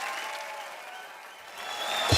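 An audience at a TV comedy show welcomes Shah Rukh Khan with sustained applause and crowd noise, which swells louder toward the end.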